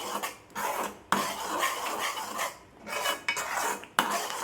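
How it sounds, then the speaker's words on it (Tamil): Mango paste being stirred with salt and chili powder, a utensil scraping and clanking against the vessel in repeated strokes with sharp knocks, close and fairly loud, with no voices. "கொட்டிக்கிட்டு இதையும் நல்லா நம்ம கிண்டிக்கலாம்."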